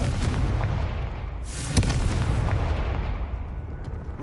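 A Confringo spell explosion in a video game gives a broad, steady roaring blast, with a brief sharper crack in the middle and no talk over it.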